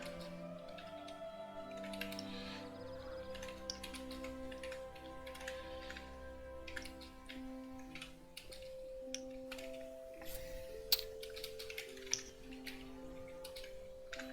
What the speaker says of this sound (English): I can hear your clicking there